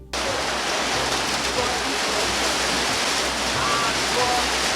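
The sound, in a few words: rain falling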